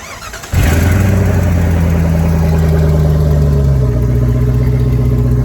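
Jeep engine cranking and firing up, then settling into a loud, steady idle close by, with the catalytic converter cut out and stolen.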